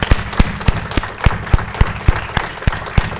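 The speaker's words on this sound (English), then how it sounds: "Please applaud these guys" Audience at a Notacon 3 hacker conference session applauds, sparse individual claps sounding near and loud over a steady wash of crowd clapping, with no talk.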